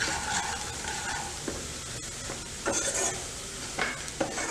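Dal with salt being stirred in a pot for a hotel-style dal tadka, a soft background sizzle punctuated by a few distinct scraping strokes of a spoon against the pot, with no speech.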